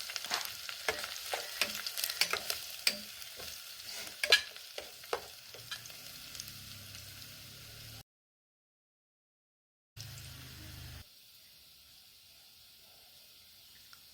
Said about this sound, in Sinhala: ඒක චුට්ටක් තෙලේ බැදෙන්න දෙන්න ඕනේ